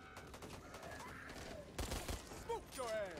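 Gunfire in the zombie shooter Back 4 Blood, with faint, rapid bursts of shots in a busy mix of game noise and voices, including a denser volley midway.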